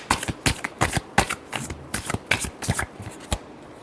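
Tarot cards being shuffled by hand, close and crisp, a quick irregular run of riffling slaps and flicks for several seconds with no talk.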